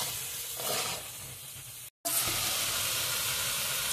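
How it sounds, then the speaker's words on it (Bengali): Spiced chicken pieces fry in a pan with salt, turmeric, cumin and coriander powder, giving a steady loud sizzle and hiss that cuts out for a moment and then returns. "এখন আমি মাংসের মধ্যে লবণ, হলুদ গুঁড়ো, জিরে গুঁড়ো, ধনিয়া গুঁড়ো, গুঁড়ো মশলার সঙ্গে এখন মাংসটা ভালোভাবে কষিয়ে নেব।"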